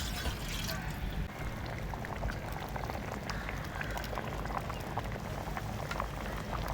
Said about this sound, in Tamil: இதெல்லாம் சேர்ந்து நல்லா கொதிக்கட்டும்